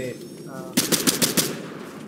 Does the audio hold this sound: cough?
no